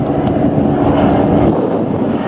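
A Morane-Saulnier aircraft passing overhead gives a loud, continuous engine drone mixed with wind buffeting on the microphone, steady throughout with no speech.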